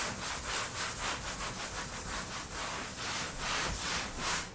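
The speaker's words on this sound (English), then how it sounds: "I need to finish sanding up here" Rhythmic scratchy rubbing of sandpaper on a damaged wall, repeated strokes at a steady pace, close and fairly quiet with no talking.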